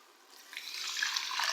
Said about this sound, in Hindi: अब हम इसमें ऐड कर देंगे पानी